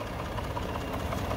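Steady low rumble of a 2017 Ford F-150 Lariat SuperCrew's EcoBoost engine idling evenly, close and continuous with no voices.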